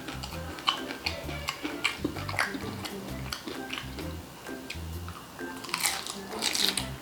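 Crunchy chicharon bulaklak, deep-fried pork intestine, chewed close to the mic during a Filipino mukbang, with repeated crisp crunches and soft mouth noises over a steady low room hum.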